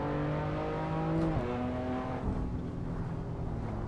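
Race cars driving in the Assetto Corsa video game produce a steady engine drone with audible gear shifts, the pitch stepping down sharply partway through before settling into a lower hum.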